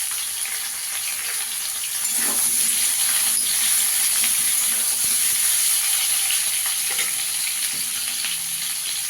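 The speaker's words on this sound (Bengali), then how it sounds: "এবার আলুটাকে একটু ভেজে নেব। আলুগুলোকে একটু লাল লাল করে ভেজে নেব।" Potatoes sizzle steadily in hot oil in a pan for a home-style garlic potato dish, a continuous bright crackle with occasional stirring clatter and no talk.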